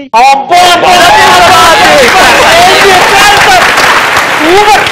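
Audience applause and cheering fill a Telugu TV studio comedy show, loud and continuous after a brief pause, with voices carrying over the clapping throughout.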